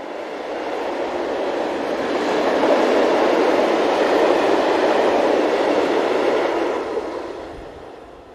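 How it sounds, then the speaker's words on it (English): A freight train loaded with scrap metal, headed by 1964-built locomotive number 1818 in Luxembourg, rumbles past at close range, swelling to a loud steady roar of wheels and wagons before easing away. "Built in 1964, number 1818 heads this trainload of scrap metal, destined for the steelworks at Esch-sur-Alzette."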